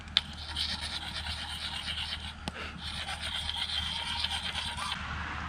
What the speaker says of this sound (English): when the nick is gone, you just flip it over, yeah, to the less coarse side to really hone the blade